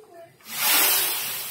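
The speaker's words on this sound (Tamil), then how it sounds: "ஓகே, இப்போ நல்லா பாருங்கள் கொதி வருது." A loud, steady hissing and sputtering of tomato pickle boiling hard in a pan begins abruptly and keeps going close by.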